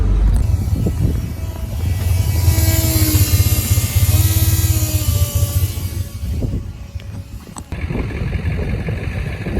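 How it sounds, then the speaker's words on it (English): A failing fuel pump in a Toyota Corolla AE86 whines with a wavering tone above the loud, steady engine and road drone of the moving car, and the sound shifts abruptly near the end. "Fuel pump is definitely still whining."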